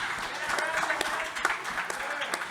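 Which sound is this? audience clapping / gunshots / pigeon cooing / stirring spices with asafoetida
audience clapping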